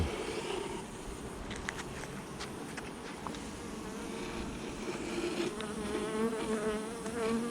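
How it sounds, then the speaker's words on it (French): Dense, steady buzzing of a large honey bee colony fills the air, a constant low drone with individual insects whining past close by. "Les abeilles, c'est une grosse colonie."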